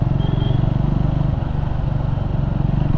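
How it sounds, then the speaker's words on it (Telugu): A motorcycle engine with a clogged BMC performance air filter, lagging on power and prone to stalling, runs close by. It makes a steady, rhythmic low chugging throb with slight clatter, and no talk. "స్టాల్ అవుతుంది ఇంజిన్."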